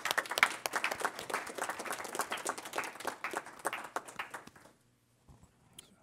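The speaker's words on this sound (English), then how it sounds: "Let's give them a round of applause." Enthusiastic applause at a Los Angeles Fire Commission meeting recognizing a house of worship task force, rapid overlapping claps that gradually thin out and stop, followed by near silence and a faint noise.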